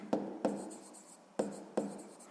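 Pen or pencil strokes on paper during a sixth-grade maths exercise, four distinct soft taps with light scratching in between, close and quiet.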